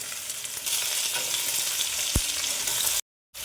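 Bottle gourd and tomatoes frying in a pan with whole cumin, a steady loud sizzle with a brief clack midway, then a short cutout to silence near the end.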